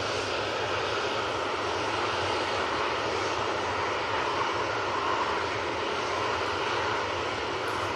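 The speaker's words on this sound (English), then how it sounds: "it's the TUI 787-9 Dreamliner coming in from Cancun" A TUI Boeing 787-9 Dreamliner jet arriving from Cancun at Manchester Airport, its engines a loud continuous roar that holds steady and close throughout with no talk.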